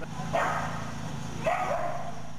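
Dogs barking in a disaster shelter setting, two short separate barks, the first soon after the start and the second about a second later, moderately close over steady background noise.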